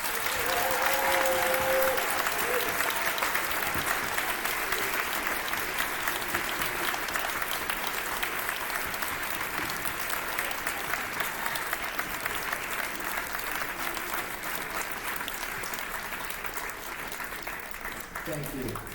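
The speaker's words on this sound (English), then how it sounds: "please join me in applause as I introduce to you the Benjamin Banneker class of" A middle school promotion ceremony audience of family, friends and staff applauds the Benjamin Banneker graduating class of 2018: sustained, dense crowd clapping throughout, slowly tapering off near the end.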